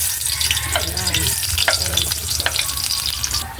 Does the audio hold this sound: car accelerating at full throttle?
no